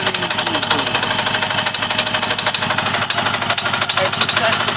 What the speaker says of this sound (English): And the engine's running beautifully.